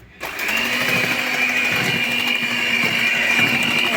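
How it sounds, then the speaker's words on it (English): An electric hand mixer beats vanilla cake batter, starting abruptly and holding a steady, loud motor whir with a faint rattling texture throughout, with no talking. "So what we'll do the final mix using the hand mixer."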